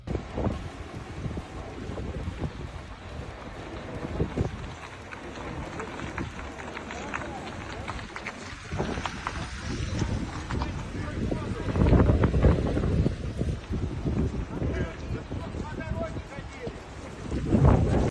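A fierce storm gale in Moscow, strong enough to bring down trees and roofs, roars in continuous heavy gusts with buffeting rumble throughout, loud and close, with muffled voices mixed under the din.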